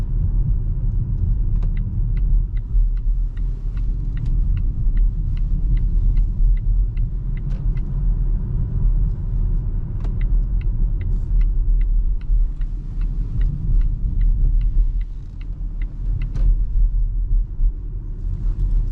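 Volvo XC40 Recharge Twin electric SUV driving in one-pedal mode at night, a steady low road rumble and tyre hum with faint regular ticking from the cabin, no engine note, continuous throughout.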